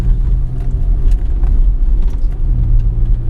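A 2005 GM car with a 4T65-E automatic transmission pulls away from a stop up a steep incline, its engine giving a loud, steady low rumble heard close from inside the cabin.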